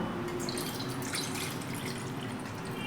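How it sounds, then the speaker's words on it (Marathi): Water being ladled with a small bowl from a vessel to knead flour for boondi ladoo, a steady close trickling and splashing with dripping sounds and no talk. "आता याच वाटीने आपण पीठ भिजवण्यासाठी पाणी घेणार आहोत"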